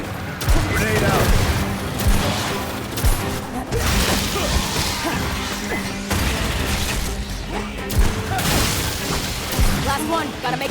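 Gunfire and a grenade blast in the Aliens: Fireteam Elite video game, rapid bursts of weapon fire and heavy booms repeating throughout, loud and close, with voices talking over the combat.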